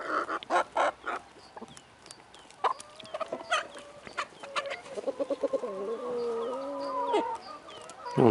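Backyard chickens cluck in scattered short bursts, with a clearer run of rising clucks near the end, fairly close and moderately loud.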